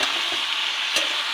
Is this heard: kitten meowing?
no